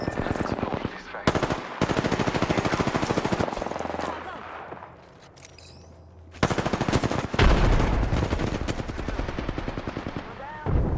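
Automatic weapon fire from the video game Apex Legends, loud sustained bursts of rapid shots with a brief lull in the middle, under voices calling out in the game.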